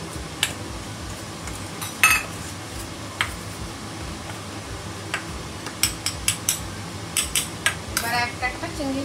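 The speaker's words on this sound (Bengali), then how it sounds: "সামান্য নুন ছড়িয়ে দিলাম, একটু গোলমরিচের গুঁড়ো দিয়ে দিলাম, দিয়ে একটু মিশিয়ে" Prawns being mixed with salt and pepper in a bowl: a string of light, irregular clicks and taps of a utensil against the bowl, clustering faster toward the end over a low background.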